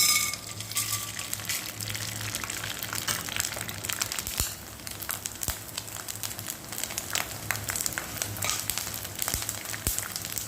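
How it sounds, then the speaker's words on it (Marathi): Sago pearls (sabudana) frying in hot oil give a steady, dense sizzle with a crackling, fizzing texture that runs unbroken for the whole stretch, close and fairly loud, with no voices. "साबुदाणा तळून घेऊया."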